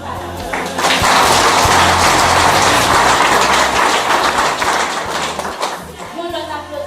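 Audience applause swells into sustained, dense clapping that fades slightly toward the end, with a voice speaking over it.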